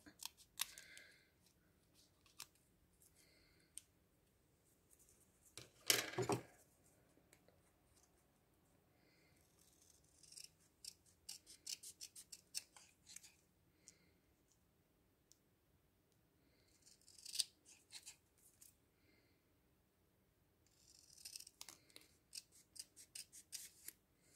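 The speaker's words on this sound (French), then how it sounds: "On va juste couper un petit peu plus droit." Scissors trim paper or card straighter during a crafting project, giving a few scattered snipping bursts, with one loud cut near the middle, close by and quiet, with no talking.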